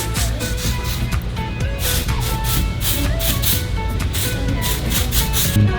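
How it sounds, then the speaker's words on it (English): Spray bursts hiss in short repeated pulses over a steady background hum, with no one speaking. "you can just kind of spray like some texture spray"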